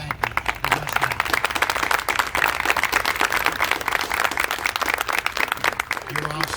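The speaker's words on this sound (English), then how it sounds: "I'd really like for all of us to give a round of applause and a big thank you to Russ" An indoor ceremony audience gives Russ Hatter a sustained round of applause at the Franklin County Trust Awards. The clapping is dense and steady and lasts several seconds, with a voice briefly audible underneath.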